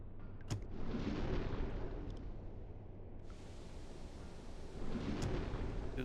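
Type VII U-boat firing all its torpedo tubes in the UBOAT submarine game, a run of loud, rumbling low booms and rushing launches that swell at the start and again near the end over a continuous heavy drone.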